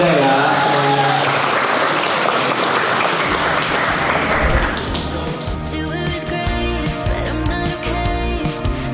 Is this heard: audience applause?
yes